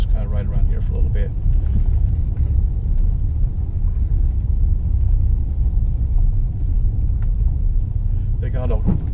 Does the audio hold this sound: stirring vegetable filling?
no